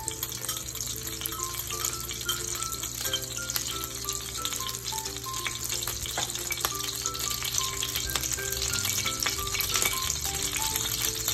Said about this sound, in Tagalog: And tunawin lang natin yung butter.